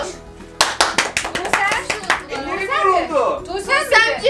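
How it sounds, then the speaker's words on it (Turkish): A small group, including children, clapping at home with sharp, rhythmic hand claps close by, mixed with children's excited voices and chatter. "Alkış."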